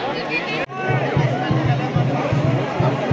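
A large crowd at the Nirai Mata temple in Gariyaband, Chhattisgarh, with dense chatter and babble close by and rhythmic thumping underneath, after a brief dropout.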